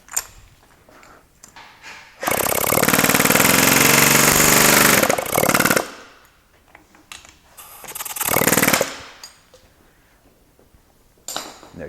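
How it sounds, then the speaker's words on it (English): An air hammer rattles loudly in two bursts, a long roughly three-second run and a shorter one, while knocking out the steering lock on a Mercedes-Benz, with quiet workshop pauses between. "What I use is an air hammer."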